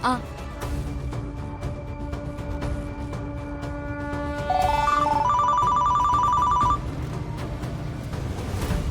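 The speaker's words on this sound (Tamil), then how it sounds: "இன்னொரு வாட்டி கால் பண்ணி பாக்குறேன்" A mobile phone call in a Tamil TV drama scene: a steady electronic ringback tone repeats through the scene, joined midway by a brighter rising-and-falling ringtone melody for a couple of seconds, with people talking over it.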